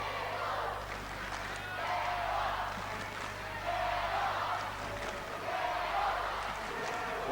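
Crowd at a 1986 Hobart Devils basketball game roaring steadily in an arena, a broad sustained swell of cheering that rises and falls, with commentary voices over it.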